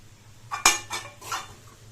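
Vegetable fried rice with chopped coriander tossed in a pan, heard as a few close metallic clinks and scrapes of a utensil against the pan over a low hum, with no talking.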